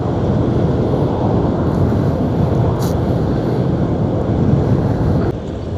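A Honda Giorno scooter riding through Davao City gives a steady, loud engine drone mixed with heavy rushing wind and road noise, continuous throughout with no clear speech.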